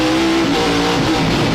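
Australian sports sedan race car with a 700-plus horsepower engine, 1100 kilo carbon fiber body and big slicks, roaring loud and close under throttle with a steady rasping growl that cuts off abruptly at the end.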